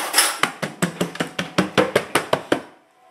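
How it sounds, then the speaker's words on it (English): Hammer strikes while building a gingerbread house, about a dozen sharp, evenly spaced knocks in quick succession, fairly loud and close, with no talking over them. "I need a hammer."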